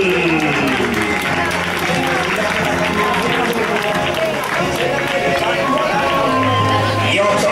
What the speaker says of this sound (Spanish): Otro más que llega a meta, ese aplauso para Roberto